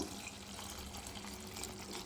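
Water pours steadily into a pot of chicken curry, a faint continuous trickling splash with no talk over it.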